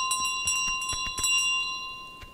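A golden bell in Untitled Goose Game rings in a quick series of bright, clear metallic strikes with sustained tones, close and fairly soft, alone without talk.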